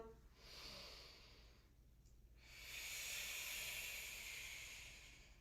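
A slow breath in, then a longer, fuller breath out, soft and close, during a foam roller exercise, with no talking.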